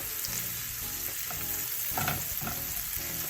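Onions frying in butter in a pan give a loud, steady sizzle and crackle close by, with occasional stirring scrapes and no talking.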